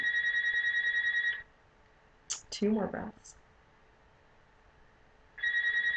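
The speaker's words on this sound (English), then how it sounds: "There's my phone ringing. I forgot to turn off the ringer." A mobile phone ringtone chirps in rapid repeated pulses, stops while someone briefly speaks, then starts ringing again at the end, moderately loud in a quiet room.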